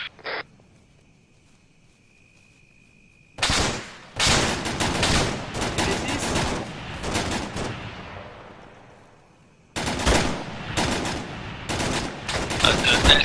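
Gunfire in the military video game Arma 3: bursts of rapid shots in dense clusters after a quiet stretch, a long volley fading out, then more sharp bursts near the end, fairly loud and close.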